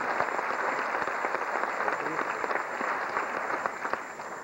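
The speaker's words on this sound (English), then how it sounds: "so you can applaud for them" An audience at a school concert applauds its administrators with a steady, moderately loud wash of clapping that carries on throughout, faintly hissy as if from an old tape recording.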